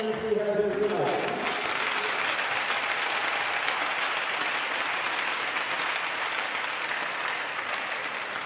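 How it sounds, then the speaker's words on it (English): An audience at an amateur hockey game in Fort Wayne applauds the seniors, dense steady clapping filling the arena and holding for several seconds, with a brief announcer's voice at the start. "please join me in one more round of applause for all the seniors we have here tonight."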